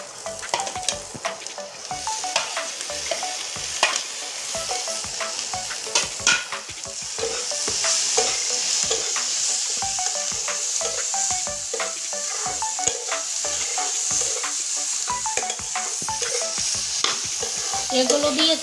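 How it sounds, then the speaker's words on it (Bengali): Capsicum, tomato and green chilli fry in a pan with a loud, steady sizzle. Frequent spatula scrapes and clinks keep a busy stirring rhythm throughout, with no talking. "এগুলো দিয়েছি, এগুলো আবার একটু সুন্দর করে ভেজে নেব।"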